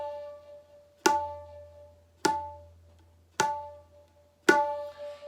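Four 'tin' strokes on a tabla, played with a finger on the middle ring: each is a sharp, ringing tone with a clear pitch, spaced about a second apart, close and alone, decaying between hits.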